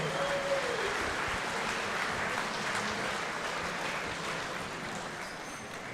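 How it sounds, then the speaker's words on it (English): A speedway crowd at a sprint car awards night applauds in a steady wash of clapping that holds evenly and fades slightly toward the end, heard from within the stands. "how about a round of applause for your top 10 in the great sprint car division?"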